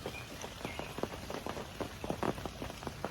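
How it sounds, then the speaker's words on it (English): Light rain falls near an ant nest, soft irregular patters of drops striking surfaces at close range, steady and faint with no voices. "here's that light rain"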